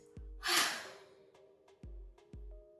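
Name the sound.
yawning during yoga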